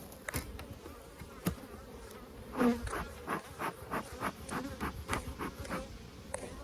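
Bees buzz around an opened hive during maintenance, with scattered short buzzes passing near and far at a fairly faint level, mixed with light handling noises.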